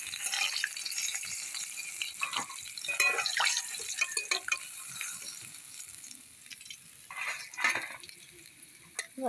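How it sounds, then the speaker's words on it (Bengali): Fish fry in a pan, with a soft, uneven sizzle, crackles and occasional stirring or scraping noises, quiet and close. No speech is heard. "বাকি মাছগুলো ভেজে নেব।"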